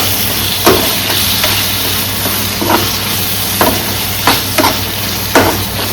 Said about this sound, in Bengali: এবার চিংড়ি মাছ সমেত ওটাকে ভেজে নিচ্ছি।